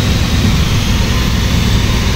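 A car engine converted to LPG idles steadily right after a restart during gas injector tuning, giving a loud, even, low drone that holds unbroken on its own.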